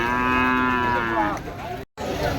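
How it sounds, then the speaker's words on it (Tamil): A native-breed Tamil dairy cow moos at a busy cattle market, a long loud drawn-out call near the listener that trails off, with a brief dropout before market noise resumes. "கறவை மாடு தான். நல்லா நாட்டு மாடு."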